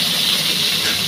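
Chopped onions sizzle in hot oil in a pan with dried red chillies, the start of a fish curry, giving a loud, steady hiss that fills the whole moment without a break.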